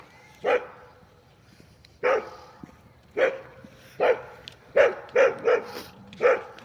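Several dogs bark in short, spaced bursts, about eight barks over several seconds, moderately near, with faint background noise between them, at night in a forest near Kyiv.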